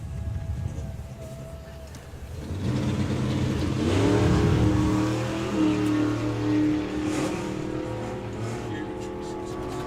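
A Model A delivery van drag racing down a strip at a drag racing festival: a distant engine note swells and climbs through gears, loud and sustained, under an announcer's commentary.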